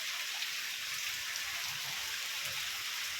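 Steady rain falling during a storm, a dense continuous hiss with soft patter, even and moderately close throughout, no voices.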